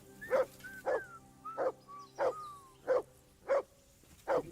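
A dog in Kingdom Come: Deliverance II barks in a steady series of short, regular barks, close and clear, with a faint whistling tone drifting between them.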